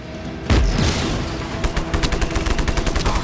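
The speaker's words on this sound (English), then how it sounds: "Toss a grenade right on it." A grenade explodes in the open-world shooter Just Cause 3, one loud boom followed by a rapid burst of crackling gunfire-like pops and rumbling debris, close and alone.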